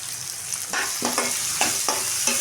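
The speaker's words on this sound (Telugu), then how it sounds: "ఇప్పుడు ఈ నూనెలోనే పచ్చిమిర్చి ఉల్లిపాయలు లైట్గా వేగితే సరిపోతుంది" Onions and green chilies frying in oil in a pan, a loud steady sizzle broken by several quick scraping stirs of a spatula.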